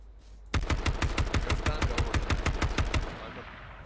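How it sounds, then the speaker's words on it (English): Rapid automatic gunfire in the H1Z1 King of the Kill battle royale game, a loud, evenly spaced burst of about twenty shots that stops abruptly and leaves a fading tail. "So bullets are useless."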